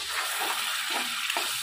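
Green chillies frying in hot oil, added to a pan after onion paste and cumin, for a potato and raw mango curry; a steady close hiss of sizzling with faint stirring, no voices.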